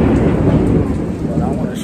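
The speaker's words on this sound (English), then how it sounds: "I want to show you guys how crazy the thunder is over here" Heavy rain pours steadily while low thunder rumbles through during a storm in Wildwood, loud and close, with no talking.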